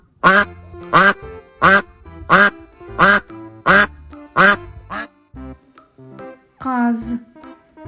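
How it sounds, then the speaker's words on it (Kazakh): A domestic duck quacks in a fast, loud series of about eight evenly spaced calls, followed by a few softer, trailing quacks, heard alone with no talking. "үйрек"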